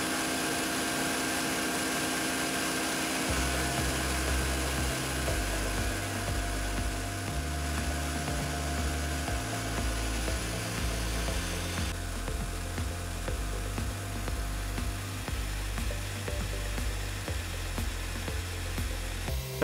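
A milling machine cuts metal parts for an all-metal blaster with an end mill, a continuous loud whine with shifting pitch and rhythmic chatter that runs throughout.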